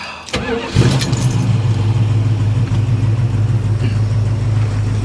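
A 1973 Plymouth Scamp flood car cranks with a brief sharp burst, catches and settles into a steady, loud low idle that holds for several seconds, close by.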